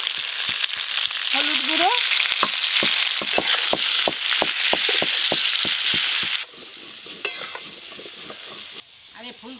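Cauliflower and potato pieces fry in hot mustard oil in a wok, a loud, steady sizzle with rhythmic scraping strokes of a spatula, then quieter frying as a voice speaks briefly.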